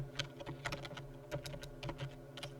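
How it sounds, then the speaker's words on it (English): Quiet, close keystrokes on a computer keyboard, about a dozen irregular taps in quick clusters over a soft steady hum. "we're going to type Skew Animator"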